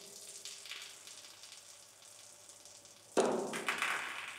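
Beer runs from the Zwickel sampling tap of a brewery tank, a faint trickle that swells abruptly into a louder splashing gush as the flow is opened up.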